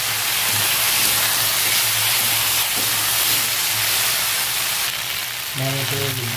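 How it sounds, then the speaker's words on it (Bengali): Pumpkin greens and salt frying with ginger paste in a pan, a loud, continuous hissing sizzle close up, with a faint hum and a brief tonal sound near the end. "আদা বাটা দিয়ে একসঙ্গে ভালো করে ভেজে নেব।"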